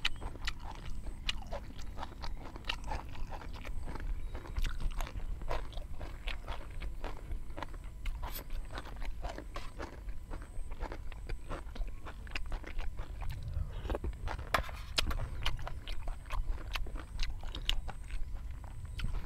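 Biting and chewing on a whole braised pork leg outdoors by a rice field, with steady close crunchy bites and wet chewing sounds repeating throughout, no talk.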